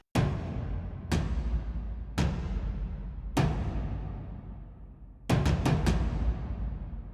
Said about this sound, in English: Are my big ensemble effects that have big reverbs